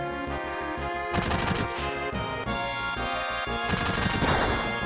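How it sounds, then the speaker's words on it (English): Gunfire in the video game Final Fantasy VII at Junon comes in two rapid rattling volleys of automatic shots. Both volleys play over rhythmic game music with a pulsing beat. "Yuffie can dodge gunfire"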